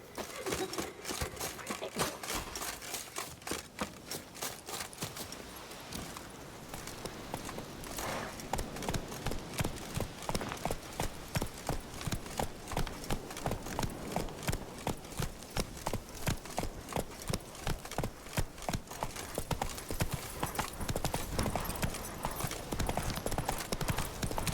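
Roach the horse gallops through The Witcher 3 video game, a steady rapid clip-clop of hooves repeating for the whole stretch at close range, with game ambience behind it and no voices.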